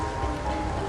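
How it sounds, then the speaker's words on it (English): Steady rain in the video game Soul Hackers 2, a continuous even hiss of falling drops that stays constant and fairly loud throughout the short moment, with no voices over it. "just started raining over here"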